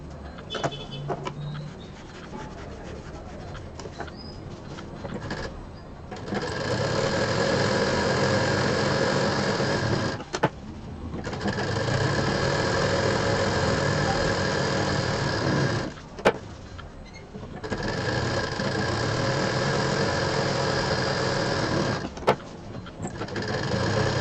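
A sewing machine stitches a zip onto a piece of fabric for a shopping bag. It runs in three long steady whirring bursts separated by brief pauses, close and fairly loud.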